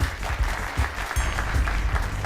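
A studio audience on the Dari-language Who Wants to Be a Millionaire applauds the contestants with dense, steady clapping throughout, close and loud.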